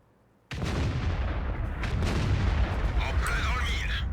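A self-propelled artillery gun fires in World of Tanks, a sudden loud boom that opens into a long, rumbling roar with crackling debris, close and heavy, sustained for several seconds.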